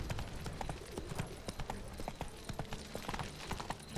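Roach, a horse in The Witcher 3, trots along with close, rhythmic clip-clop hoofbeats that repeat steadily and stand alone without talk.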